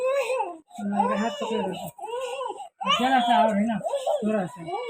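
A baby cries and whimpers in repeated bursts with brief pauses while getting a haircut at home, the wailing loud and close.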